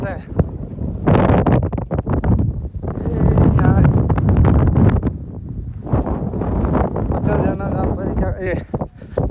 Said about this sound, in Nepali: हावा चलिरहेको